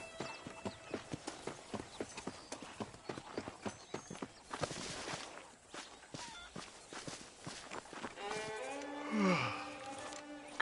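Horse hooves clip-clop at a steady walking pace in the Western game Red Dead Redemption, close and distinct. The footfalls fade near the end, where a short, throaty vocal sound rises.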